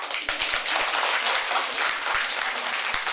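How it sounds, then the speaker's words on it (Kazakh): Kindergarten children at a farewell event give a dense burst of applause, with many small hands clapping together in a steady, loud patter for several seconds. "Қазір шапалақ қайда?"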